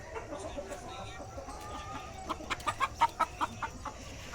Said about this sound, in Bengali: ওই দেখো কত মুরগি।